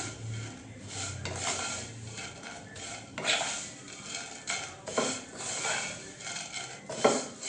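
A spoon stirs sweet vermicelli (seviyan zarda) in a pot, making steady scraping and clinking against metal with a few sharper knocks, close and moderately loud, with no talking.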